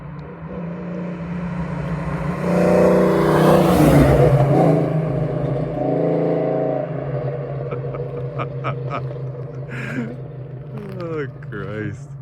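A 1992 Ford Mustang 5.0 Fox Body notchback with a manual gearbox, driven on the road: a steady engine drone that swells as it revs and then settles, with people talking over it.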